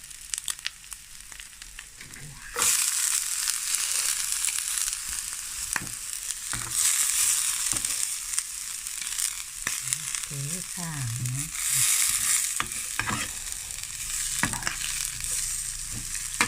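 Thai crispy mussel pancake (hoi tod) frying on a gas stove starts quietly, then a loud, dense sizzle sets in and continues with scattered spatula scrapes and clinks, near and steady throughout.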